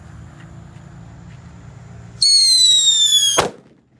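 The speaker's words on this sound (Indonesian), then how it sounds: "Ini ada mercon Whistling King Thunder warna merah." A red Whistling King Thunder firecracker shrieks with a loud rising whistle for about a second over quiet outdoor background, then ends in a sharp bang.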